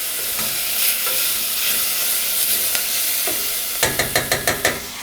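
Onions frying in a pan, a steady close sizzle and hiss broken by a quick run of rhythmic scraping stir strokes near the end, with no talking.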